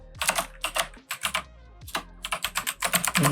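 Close clicking of computer keyboard keys in quick bursts with short pauses between them, crisp and fairly loud, with no voice over the typing.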